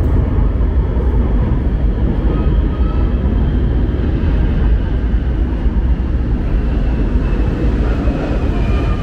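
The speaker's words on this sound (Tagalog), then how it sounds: "tunog ng eroplano." Airplane flying near the airport beside an LRT-1 Cavite Extension station, a loud, steady broadband roar with low rumble holding constant throughout, no voices.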